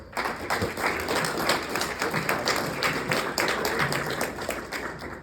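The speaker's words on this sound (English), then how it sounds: "Give him a round of applause." Audience applause, a dense wash of clapping that stays steady for several seconds before tapering slightly.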